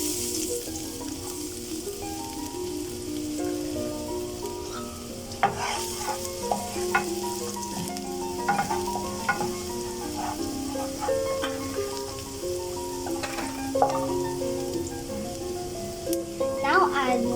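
Garlic sautéing in oil in a hot pan gives a steady, close sizzle with occasional stirring scrapes, running under background music and a voice.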